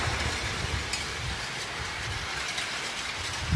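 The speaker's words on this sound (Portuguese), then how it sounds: "A chuva chegou, galera." Rain falls steadily outside a house, a broad even hiss at moderate distance with no talking over it.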